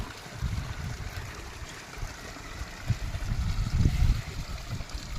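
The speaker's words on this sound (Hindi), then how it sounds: "और ये जो बना हुआ है धारा, इसे हम कहते हैं कुलित" Water flows through a small stone channel called a kulit in Mana village, a soft, continuous rushing and trickling that swells slightly toward the end, with no talk.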